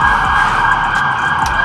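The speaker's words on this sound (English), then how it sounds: "Well, you can hear a siren." A siren sounds steadily outdoors as an emergency vehicle passes, holding a continuous wailing tone throughout at moderate loudness with faint background rumble and no talking.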